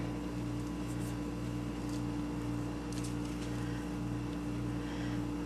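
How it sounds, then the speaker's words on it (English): A steady low hum and drone like an old refrigerator running, constant and unbroken in the background, with faint clicks and no talking. "That noise you hear in the background, that's my refrigerator."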